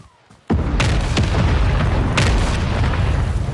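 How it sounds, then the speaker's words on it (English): Mortar strike explosions in Call of Duty Modern Warfare 3 boom loudly after a short quiet lead-in, a heavy rolling barrage with several sharp blasts layered over a sustained roar. "Friendly mortar strike on the way."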